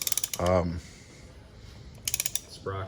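A ratchet turns a motorcycle engine over by hand in a motorcycle shop, with two quick bursts of close, sharp clicking separated by a pause and someone speaking briefly between them.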